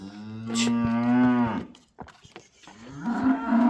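Cattle at a livestock market moo loudly nearby, one long sustained low bellow followed after a short pause by another rising moo, with faint market noise between calls.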